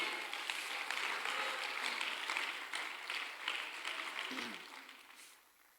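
Church congregation clapping together, a continuous crackle of many hands at moderate distance that fades out toward the end.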